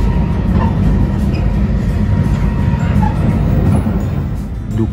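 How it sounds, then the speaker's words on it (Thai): A Shinkansen bullet train running slowly near Kakunodate, heard as a loud, steady low rumble of wheels and carriage that fades slightly toward the end. "ดูความช้าของรถไฟชินคันเซ็นสิช้าช้าจนเหมือนรถไฟธรรมดา"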